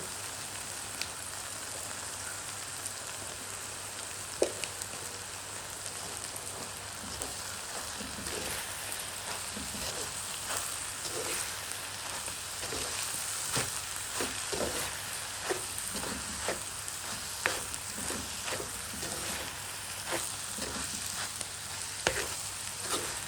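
Fish and brinjal curry frying with milk in a pan, a steady close sizzle and bubbling with scattered sharp pops and crackles throughout, no voices.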